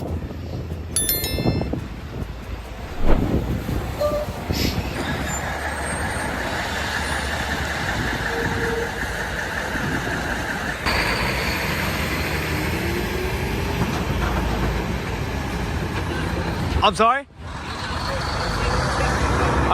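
Steady roar of road traffic with passing vehicles and a brief hiss like an air brake, while a person speaks briefly over it.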